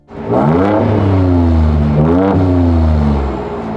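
A Ford Ranger Raptor pickup idles in normal exhaust mode with a steady low exhaust rumble, giving two smooth revs that rise and fall before settling back to a quieter idle.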